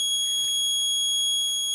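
A small piezo buzzer wired into a squishy dough circuit sounds a continuous high-pitched tone, steady and close, with no other sound behind it.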